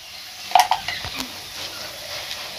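Spice masala with tomato and ginger stirred in oil in a pan for a vegetarian paneer dish, with a soft sizzle under scraping spoon strokes and a few metallic clinks against the pot.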